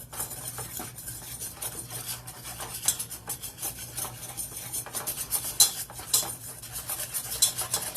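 A spoon stirs brown sugar icing in a pan, scraping and clinking against the metal in a steady, close rhythm of small rasps and taps, with no voices.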